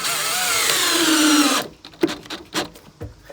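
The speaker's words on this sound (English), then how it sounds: "So I'll put the screws in diagonal right here." A power drill drives screws into a wooden single 12-inch speaker box. It whines loudly and close for over a second, its pitch shifting under load, then stops and is followed by a few sharp knocks and handling taps.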